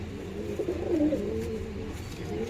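Low, throaty cooing from pigeons at a Howrah pigeon sale, a short run of nearby coos heard alone.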